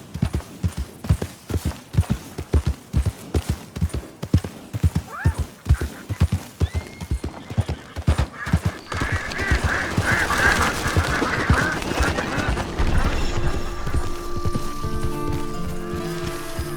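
Horse hooves clip-clop in a steady, evenly spaced rhythm in Red Dead Redemption 2, then give way to a denser, continuous rush of movement with a brief whinny, close and fairly loud throughout.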